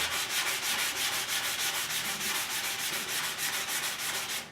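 Steady back-and-forth rubbing of a sanding block on a metal motorcycle fuel tank from a Suzuki GS550, a rhythmic scratchy hiss repeating quickly and evenly, close up.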